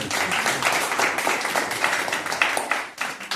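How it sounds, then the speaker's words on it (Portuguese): A church congregation at a Father's Day service claps together in a short, loud burst of applause, the dense patter of many hands that fades slightly toward the end. "Aplauda Jesus."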